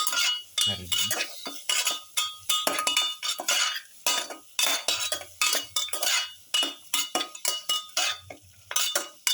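Spiced mutton pieces are stirred and tossed in a pan with a utensil, giving repeated scraping, clinking strokes at a steady rhythm, close and fairly loud, with no talking.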